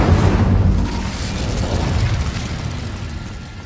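An Incendio fire spell in Hogwarts Legacy bursts as a loud, deep explosive boom with a rumbling roar that slowly fades over a few seconds, with no voices over it.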